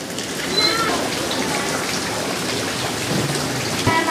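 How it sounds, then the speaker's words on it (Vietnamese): Heavy rain pours down in Huế near a small market, a loud, steady wash of downpour with scattered drips and splashes. "Huế ngày hôm nay mưa khủng khiếp."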